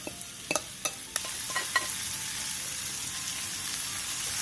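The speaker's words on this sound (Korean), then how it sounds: "팬에 기름을 두른 뒤 재워놓은 고기를 넣고 센 불에서 볶아주세요." Marinated meat stir-frying in an oiled pan over high heat, with a steady broadband sizzle and a few sharp scraping clicks from stirring early on, close and moderately loud with no talking.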